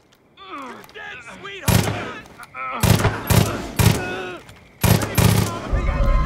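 Heavy automatic gunfire in the video game Far Cry 5, loud bursts of rapid shots arriving in several volleys, close and intense, with game voices talking between and under the shooting.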